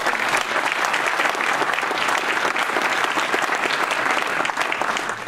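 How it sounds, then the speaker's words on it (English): An audience at a city's State of the City address breaks into sustained, dense applause, a loud and steady wash of many hands clapping that holds evenly throughout. "a round of applause"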